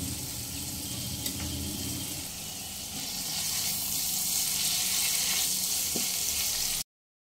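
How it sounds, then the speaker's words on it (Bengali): Shrimp coated with turmeric and salt frying in a pan over a medium flame make a steady, moderate sizzle that swells slightly before cutting off abruptly, with no one speaking. "আমি এখানেই চিংড়ি মাছ কটা ভেজে নেব।"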